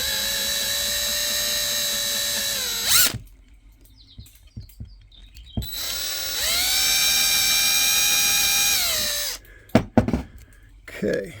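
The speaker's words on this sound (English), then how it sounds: "So let's drill these out too." A power drill bores out fasteners on a truck bed in two long, steady, high-pitched whining runs split by a quiet pause with faint clicks, loud and close, with short bursts of handling noise at the end.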